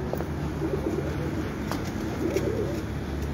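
Pigeons coo in soft, low rolling phrases, two short bursts over a steady background hum, fairly close and moderately quiet.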